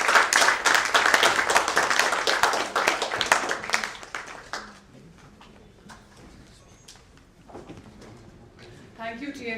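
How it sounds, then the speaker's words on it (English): Audience at the Chandigarh Literature Festival 2013 breaks into loud, dense applause that carries for about four seconds and then thins out, followed by quieter room noise and a faint voice. "So give him a big hand"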